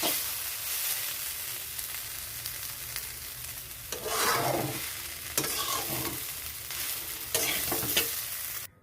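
Elephant foot yam stalks fry in a pan with a steady sizzle, broken by several sharp scraping stirs of a utensil; no one speaks.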